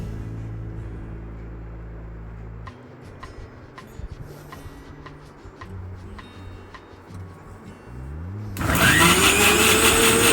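A kitchen mixer grinder blends shallots, green and dried chillies, garlic, cumin and curry leaves for a jackfruit thoran, starting with ticking and clattering, then surging into a loud, steady whirring grind near the end.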